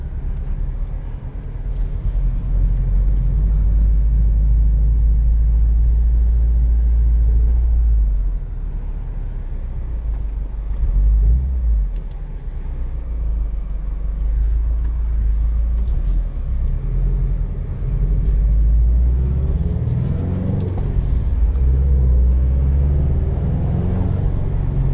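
A 2021 Subaru WRX STI Limited on the move, its engine a loud, constant low rumble heard from inside the cabin, with road noise and brief shifts in tone.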